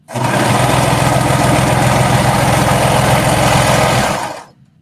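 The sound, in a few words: sewing machine stitching knit fabric down a dress seam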